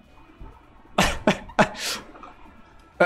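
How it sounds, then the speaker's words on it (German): A person coughs three or four times in quick, loud bursts and then gives a longer breathy rasp, in a quiet room with a faint background hum. "Hust."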